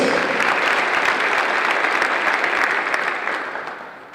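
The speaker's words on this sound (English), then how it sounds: "but make some noise for Emma de Hoyos." A crowd claps and cheers in a dense, steady burst of applause that tapers off toward the end.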